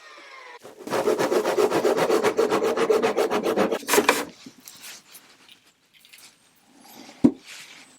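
Rapid, rhythmic scraping strokes of a chisel cutting into wood on an old 1700s table, loud and close, followed by quieter scattered taps and one sharp knock.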